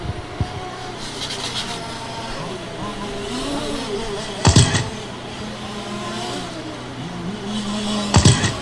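Race cars rumble around the track during a 2017 GLARCRC cancer benefit race, with a steady mid-distance engine drone and two louder bursts as cars pass close by, under a commentator's voice.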